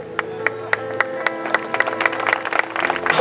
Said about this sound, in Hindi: हम लोग ताली बजा रहे हैं